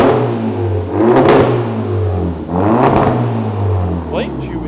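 A straight-piped Seat Ibiza Bocanegra 1.4 TSI engine revs loudly twice, rising and falling with a rough, throaty exhaust note, close by and idling between bursts.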